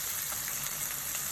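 Onion and tomato dropped into a hot pan give a faint, steady sizzle with a soft crackle, heard alone and close.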